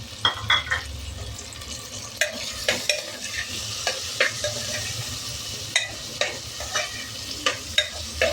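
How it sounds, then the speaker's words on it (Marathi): Drumstick pods frying in oil for a spicy amti, a continuous sizzle punctuated by repeated clacks and scrapes of a spoon stirring against the pan, close and fairly loud, with no talking. "शेंगा छान तेलावर परतून घ्यायचे आहे।"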